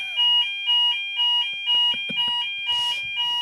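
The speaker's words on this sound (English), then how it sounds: "I think that's the alarm from Frank Warren to tell us to stop slagging." A fire alarm goes off in a boxing preview studio, sounding a loud, piercing electronic tone in a steady pulsing rhythm of about seven beeps, with brief knocks and a short burst of noise near the end.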